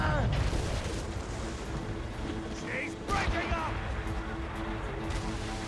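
Ship cannons boom in a naval battle in the video game Assassin's Creed Rogue, with several heavy blasts and crashes over a steady ambient bed of sea and wind, mixed under speech.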